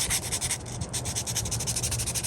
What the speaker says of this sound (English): let's take my sandpaper here.